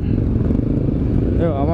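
A motorcycle engine and exhaust rumble loud and close on a Sunday group ride, with a steady low drone and rising revving near the end among other bikes.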